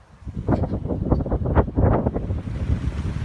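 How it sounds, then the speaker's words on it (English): Wind buffets the microphone outdoors in loud, uneven low gusts that swell and ease, with no one speaking. "it's a bit windy today"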